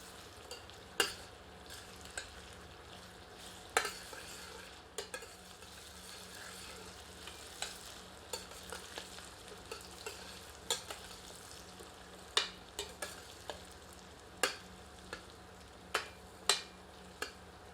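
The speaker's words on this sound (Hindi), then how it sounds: "प्याज को मध्यम आंच पर तब तक भूनते हैं जब तक कि प्याज थोड़ी सी पारदर्शी नहीं हो जाती।" Onions for mutton curry fry over medium heat, giving a faint steady sizzle. Scattered clinks from a spoon stirring against the pan break through at irregular intervals.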